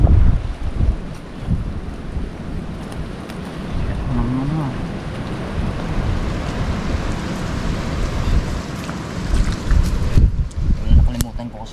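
Strong wind roars and buffets the microphone throughout, with a voice briefly heard partway through and gusts surging near the end.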